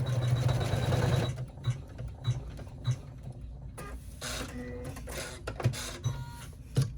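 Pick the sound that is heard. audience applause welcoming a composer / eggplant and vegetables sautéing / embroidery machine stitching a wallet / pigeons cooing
embroidery machine stitching a wallet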